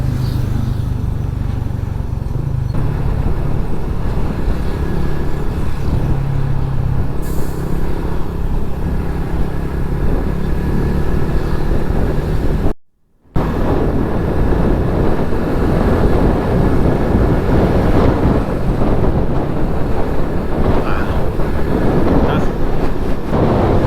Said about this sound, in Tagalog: Namumulaman sa 5th gear tong motor ah.